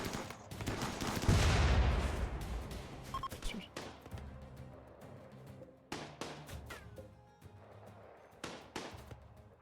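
Grenade blasts and gunfire erupt in a RimWorld battle, with a heavy boom early on followed by scattered sharp shots and thuds, while a voice talks over the combat.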